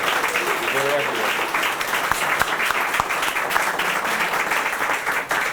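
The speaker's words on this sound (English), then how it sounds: "So if all the West Habbers could just wave for a round of applause" Applause from an audience at a ribbon-cutting ceremony for Summit on the Hudson, a steady wash of clapping throughout with a voice speaking over it.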